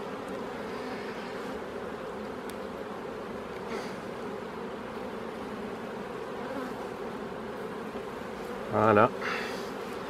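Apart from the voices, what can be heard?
honeybees buzzing at an opened hive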